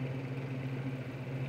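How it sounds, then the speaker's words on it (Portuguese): An electric fan driven by a reused motor runs steadily, a constant low hum with a faint whirring drone, close and unchanging with no talk. "Mas está aqui funcionando o ventilador."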